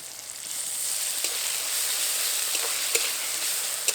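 Ginger garlic paste sizzles in a pan with onion and chopped softened tomato, a steady close frying hiss with a few faint stirring clicks and no voices.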